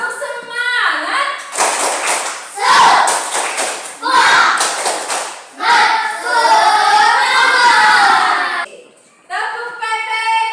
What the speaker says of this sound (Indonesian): coba sih tepuk semangat